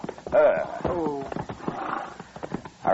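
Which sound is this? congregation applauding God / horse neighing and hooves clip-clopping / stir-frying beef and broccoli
horse neighing and hooves clip-clopping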